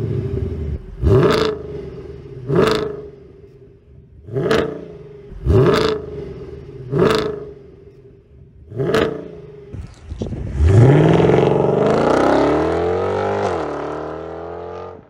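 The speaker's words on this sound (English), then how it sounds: "the long tube headers, VRP long tube headers. Doesn't have cats at all, but it does still have resonator and then the mufflers." A 2007 Mercedes E63 AMG, naturally aspirated, with VRP long tube headers, no catalytic converters, resonator and mufflers, barks through six sharp rev blips in a steady rhythm, then holds a long, loud, rising wail of acceleration.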